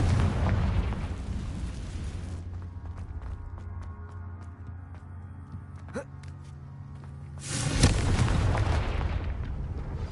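Spell explosions from Bombarda and Confringo in the PS5 game Hogwarts Legacy: a broad roaring blast at the start, a quieter stretch with scattered clicks and a whoosh, then a second loud burst near the end.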